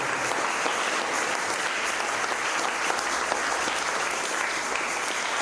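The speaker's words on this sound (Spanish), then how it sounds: "Un aplauso al Señor." A church congregation applauds during a sermon, a loud, dense and continuous burst of clapping that stays level without voices on top.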